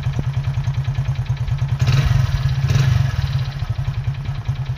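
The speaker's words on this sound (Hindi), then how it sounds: "टक टक का साउंड सुनाई देगा।" A motorcycle engine idling with a fault that gives a rapid, even tick-tick clatter riding on the low engine beat, heard up close and steady, with a brief swell of revving midway.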